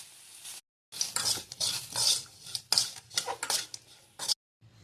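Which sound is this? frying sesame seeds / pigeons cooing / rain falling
frying sesame seeds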